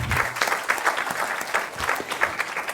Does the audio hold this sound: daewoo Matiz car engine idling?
no